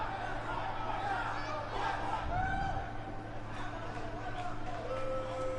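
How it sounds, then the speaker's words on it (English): Wrestling crowd at a dark match cheering for Vicki Rush, a steady wash of voices and shouts at moderate distance with a brief louder swell midway, with talk mixed in. "Crowd giving it up for Vicki Rush."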